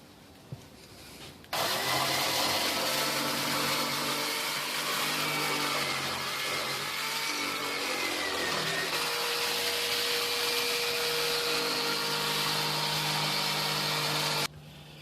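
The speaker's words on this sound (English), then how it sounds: "flip the whole thing over and cut the rings off with a jigsaw" A jigsaw cuts the rings off a large plywood wheel for a six-foot cat exercise wheel, a loud, steady, buzzing whine that starts abruptly, runs continuously for about thirteen seconds and then cuts out, with no talking.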